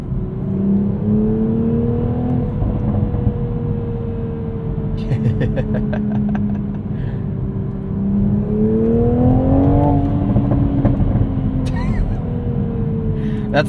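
A 2023 Toyota Supra with a six-speed manual revs high while driving, its engine note rising and falling steadily throughout, with a brief climb near the end; a person talks over it.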